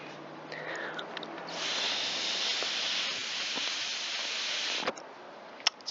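Breath blown through a small cross-cut vent in a Stihl BG86 leaf blower part, a close, steady airy hiss that rises and holds for several seconds, ending with a couple of faint clicks.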